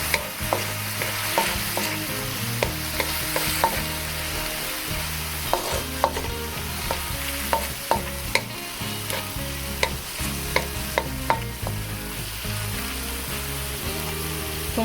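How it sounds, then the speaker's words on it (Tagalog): Tuna adobo with soy sauce gets stirred in a pan: repeated sharp utensil clicks against the metal over a continuous sizzle, close and steady, with no talking. "Ngayon po ay maglalagay po tayo ng toyo. Hahaluin po natin."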